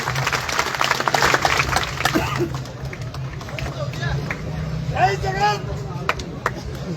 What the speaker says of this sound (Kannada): ಜೋರಾಗಿ ಚಪ್ಪಾಳೆ ಬಾರಿಸ್ರಿ ಇಲ್ಲಿ